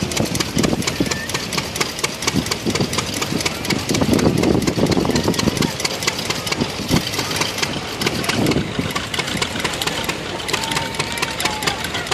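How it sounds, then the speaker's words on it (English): A 1934 McCormick WK-40 tractor engine runs steadily at an outdoor power parade, a continuous loud, rough mechanical chug with no pauses and little talk over it. "That is a 1934 WK-40 McCormick Herring owned by Jim Muller out of El Reno, Oklahoma"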